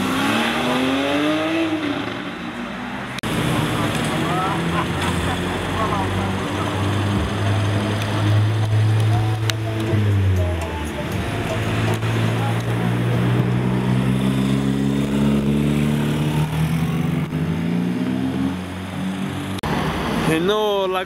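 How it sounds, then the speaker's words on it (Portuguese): A Porsche 911 of the 991 generation revs at a Sunday car meet, its engine note rising and falling in repeated sweeps over several seconds, loud and close amid crowd chatter and background voices. "Porsche 911-991."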